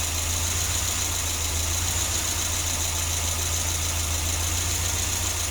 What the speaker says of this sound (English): that you're hearing is the idle air control valve working